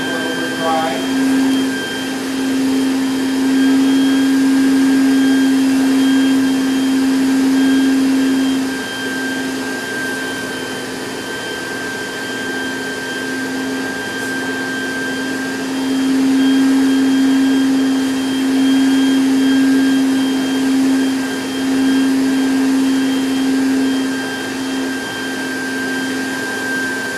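A NaceCare TP18SX cleaning machine vacuums dry through its wand, giving a loud, steady motor drone with a strong tonal whine that swells in two stretches, while a voice speaks faintly underneath.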